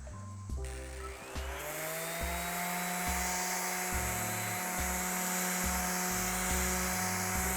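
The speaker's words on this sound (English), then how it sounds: "you always want to keep in mind how delicate the surface is that you're sanding" Orbital sander working a wooden surface, a steady loud high-pitched whine and buzz that spins up after a brief start and runs continuously up close.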